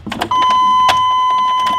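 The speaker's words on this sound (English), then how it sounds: "Sorry, by the way, that there's gonna be quite a bit of beeping." Dashboard warning beep in a school bus conversion just after the key is turned: a brief scuffle of handling noise, then one loud, unbroken electronic tone that holds steady to the end.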